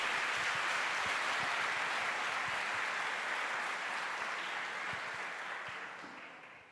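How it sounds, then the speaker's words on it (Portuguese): Church congregation applauding during a service, a dense, steady wash of clapping that continues throughout and fades slightly toward the end, with no talk over it. "as palmas, louva o Senhor."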